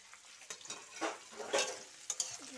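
Chopped onions frying in a pan and being stirred, with soft scraping strokes and a light sizzle recurring irregularly across a quiet, close kitchen scene.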